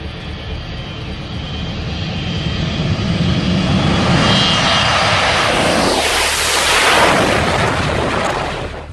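Loud, roaring aircraft engines straining as an overloaded plane takes off, a heavy, continuous rumble that swells and surges with a rising whine toward the end, close and without talk.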